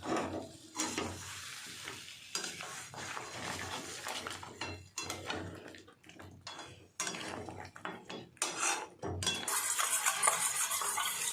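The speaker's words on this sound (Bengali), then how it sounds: "এবার আমি ভালো করে এই সিরাপটার সাথে মাংসগুলোকে আমি মাখিয়ে নেব।" Meat being stirred and coated in syrup in a sizzling pan, with steady frying hiss and repeated scraping and clinking of a spatula against the pan throughout, loud and close.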